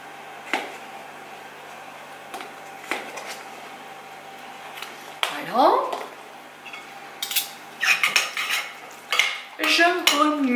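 A vegetable pizza mixture stirred with cutlery in a bowl, soft scattered clinks at first, then denser scraping and clattering strokes toward the end, over a quiet background.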